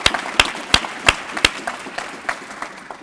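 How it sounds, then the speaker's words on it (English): Applause breaks out at a student leadership awards ceremony, with crisp, evenly spaced claps that come loud at first, then thin out and fade over a few seconds. "Let's give him a round of applause"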